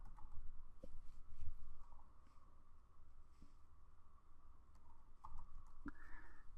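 Typing on a computer keyboard while searching for the terminal in an Ubuntu virtual machine, faint sparse key clicks against a quiet room hum.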